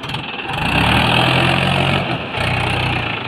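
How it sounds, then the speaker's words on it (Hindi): A Mahindra 575 DI XP tractor pulls a trolley loaded with wood, its engine droning loudly and steadily up close, with a brief dip in power partway through. "इस तरीके से जो ट्रैक्टर यहाँ पर निकल रहा है ये देखिए।"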